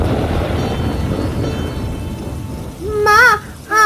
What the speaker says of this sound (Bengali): আর এইদিকে দেখো কি জোরে বৃষ্টি হচ্ছে বাইরে।